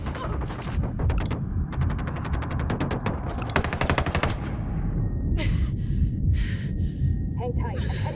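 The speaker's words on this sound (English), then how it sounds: "I'm opening fire on these shitheads" Rapid automatic gunfire in Ghost Recon Wildlands, with sustained bursts of machine-gun fire and scattered single shots during a firefight, loud and close, while voices talk over it throughout.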